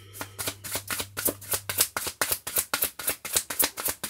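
A deck of playing cards is riffled and shuffled in quick, regular bursts of crisp flutters, close and steady over several seconds with no voices.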